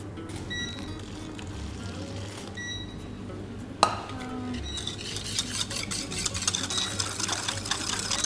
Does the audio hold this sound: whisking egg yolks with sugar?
yes